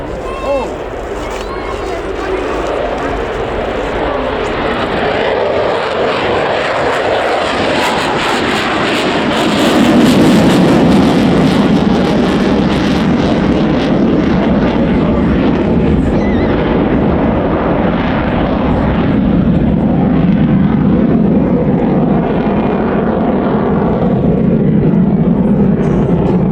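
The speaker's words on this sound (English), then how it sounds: "Very smooth takeoff there." A fixed-wing aircraft takes off at the RIAT airshow. The jet engine roar builds steadily and swells around the midpoint, then holds loud and close with wind buffeting the microphone. A voice comments over it.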